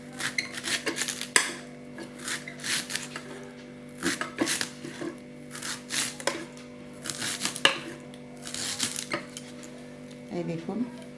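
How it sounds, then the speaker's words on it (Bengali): Knife chopping banana blossom into small pieces on a board for a Bengali mochar chop, a steady run of close, sharp cuts in bursts with brief pauses, and a voice talking over the chopping. "এই যে আর হাফটা আছে, এটাকেও আমি কিন্তু একইভাবে এরকম পিস পিস করে কেটে নেব।"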